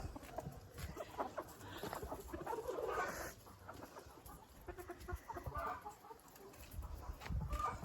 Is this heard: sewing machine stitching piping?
no